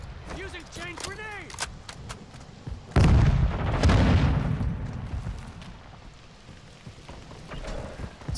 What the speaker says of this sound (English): Using chain grenade.